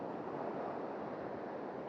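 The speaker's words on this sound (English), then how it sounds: "just trying to wait until the waves break" Rough seas with waves breaking, heard as a steady, full roar of surf mixed with wind buffeting the microphone, continuous and without speech.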